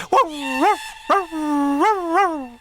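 A person imitates a dog with a series of howling, yelping vocal sounds, three or four wavering calls close and loud with brief gaps, alone without other talk.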